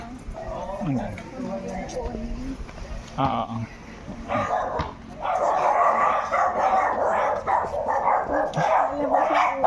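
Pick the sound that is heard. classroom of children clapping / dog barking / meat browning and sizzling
dog barking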